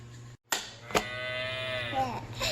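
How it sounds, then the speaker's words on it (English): Cow on a farm giving a long, loud moo close by, a sustained tonal call lasting over a second, with a sharp click before it. "Cow says moo."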